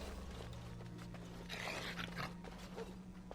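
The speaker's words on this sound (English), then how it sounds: "I thought that dog was going to attack me then." A dog in the Dragon Age: Origins video game gives a rough, snarling growl in the middle of the clip. The growl is moderately loud over a steady low hum of game ambience, and no speech is heard.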